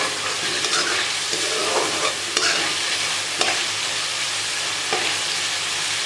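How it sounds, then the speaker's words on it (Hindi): Chicken liver and gizzard curry (kaleji pota) frying in oil with steady stirring: a continuous broadband sizzle with repeated scraping strokes of the spoon in the pot, close and fairly loud, no voices. "अब हम इसको थोड़ा सा और भूनेंगे यहाँ तक कि इसके ऊपर ऑयल आ जाए"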